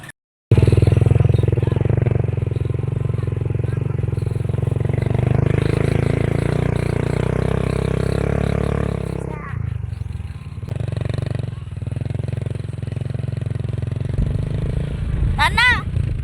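Motorcycles at a fiesta rumble and rev up close, a loud continuous engine drone with brief drops and clattering, while people talk over it.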